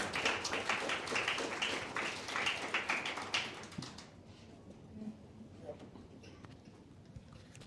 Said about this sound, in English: Please give a round of applause for Karen.